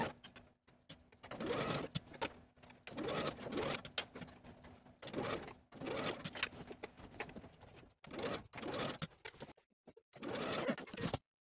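A sewing machine sets a dress sleeve into the armhole with a 5/8 inch seam allowance, stitching slowly in short stop-and-start runs of close, moderately quiet whirring with brief gaps.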